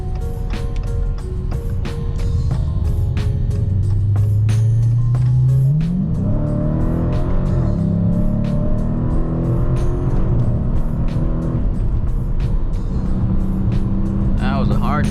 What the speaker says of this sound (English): I'm gonna take this down the freeway, do a couple of pulls